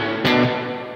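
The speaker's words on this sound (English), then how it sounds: "So that is a plate reverb." An electric guitar chord played through a pedal board's plate reverb rings out once, close and moderately loud, then blooms into a smooth, dense wash that decays steadily.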